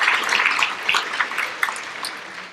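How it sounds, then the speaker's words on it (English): Applause from an audience at a chamber of commerce meeting and awards ceremony, a steady wash of many hands clapping at moderate distance throughout, without talk. "So I think that deserves a round of applause for all the Bright Stars that have been recognized."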